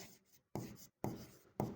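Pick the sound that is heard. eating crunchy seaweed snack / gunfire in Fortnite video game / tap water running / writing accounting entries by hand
writing accounting entries by hand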